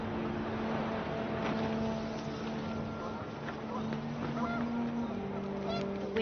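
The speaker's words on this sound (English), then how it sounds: "The wind picked up and panicked geese appeared and quickly went." Panicked geese honking in the video game What Remains of Edith Finch, repeated honks scattered over wind and a steady background drone, with a voice speaking over them.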